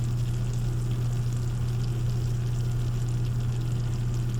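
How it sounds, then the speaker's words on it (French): Macaroni and cheese with jalapeño bubbling just out of the oven in a baking dish with a golden, blackened crust, a steady soft sizzle and low bubbling hiss held close and continuous, with no talking. "J'imagine que le micro capte le petit bouillonnement."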